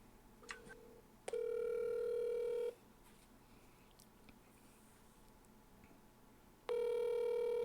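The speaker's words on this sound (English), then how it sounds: "He better pick up this fucking phone." An outgoing phone call rings on the line, a steady electronic ring tone sounding in two long bursts, the second starting after a long quiet gap, clear and fairly loud.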